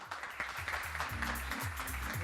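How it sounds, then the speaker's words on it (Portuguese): Audience applause at a corporate HR talk event in São Paulo, a steady burst of clapping from a crowd filling the short stretch without a break. "Por favor, salve de palmas para a Tâmara."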